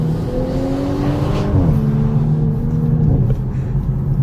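A 2019 Audi S5 Sportback engine accelerates hard from inside the car, a loud continuous roar with rising harmonic pitch that drops briefly at a gear shift then climbs again.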